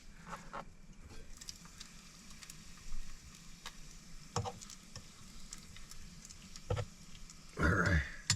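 Bacon sizzles in a pan on a van camping stove, a soft, steady crackle broken by sharper pops and scraping utensil knocks, close by.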